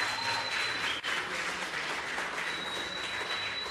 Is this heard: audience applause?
yes